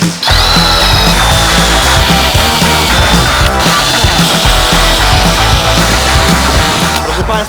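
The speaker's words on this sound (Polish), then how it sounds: "trzeba będzie wymierzyć punkty, w których będzie trzeba przewiercić dziurki" Power drill boring holes through wooden backing to fix small rollers onto a homemade machine, a loud continuous whirring grind running steadily throughout with slight shifts in pitch.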